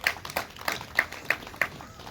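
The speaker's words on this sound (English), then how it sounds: "We clap for them" An audience at a Women's Day celebration at a district hall in Mbale claps in a handful of loose, rhythmic bursts, moderately near and without talk.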